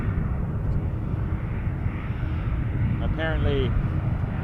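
A fixed-wing airplane at Montréal-Trudeau Airport makes a steady, continuous engine roar at a distance throughout, with a brief spoken word partway through.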